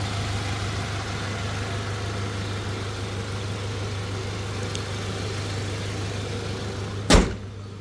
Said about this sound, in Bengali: কোনো এক্সট্রা কোনো নয়েজ নেই, কোনো সাউন্ড প্রবলেম নেই। দেখতেই পাচ্ছেন, স্মুথ ইঞ্জিন কন্ডিশন।